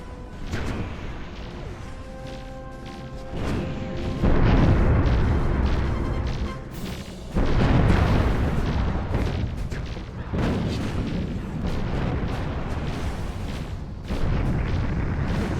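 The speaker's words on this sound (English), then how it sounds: "we create a beautiful explosion on the right side of the screen" Huge booming explosions roll across space combat in Nexus: The Jupiter Incident, with heavy blasts near 4 and 7 seconds over a continuous rumbling, crackling din of weapon fire and debris.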